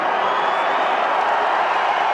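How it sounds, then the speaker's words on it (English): Boxing arena crowd roaring and cheering steadily as Manny Pacquiao appears on the big screen before his 2006 rematch with Erik Morales, a dense continuous wall of crowd noise with no pauses. "And the crowd goes nuts"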